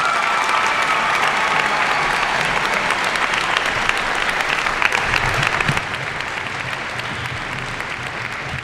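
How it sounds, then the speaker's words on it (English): Loud, sustained applause from a large audience at a high school graduation ceremony, dense clapping with crowd noise running the full length and easing slightly toward the end. "Let's give them one more round of applause"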